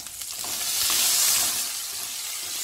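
Green chillies sizzle and fry steadily in oil in the same pan used for frying fish, a close, continuous crackling hiss with no talk over it.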